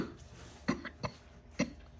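Three short coughs, spaced apart, fairly close and moderately loud over a quiet background hum.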